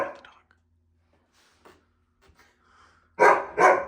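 A dog barks indoors in a house, two loud close barks near the end after mostly quiet with faint scattered sounds and a brief sound at the start.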